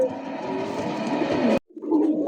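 Pigeons coo in a trader's collection of yellow and red birds, a close, steady murmur of overlapping calls that breaks off briefly and then resumes more softly.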